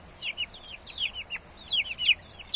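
A mother hen with her chicks gives soft, repeated clucks, mixed with the chicks' high-pitched peeping chirps in quick, irregular bursts, close by.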